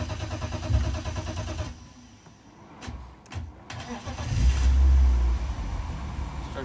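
BMW 328i engine swapped into a Miata, started with the clutch down: a loud running engine cuts off, a few clicks follow in near silence, then it cranks and fires back up with a deep rumble before settling.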